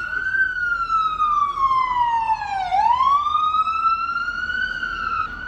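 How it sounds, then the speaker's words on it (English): A wailing siren sweeps down in pitch and rises again as it passes, loud and steady over traffic noise. "passing a siren apparently"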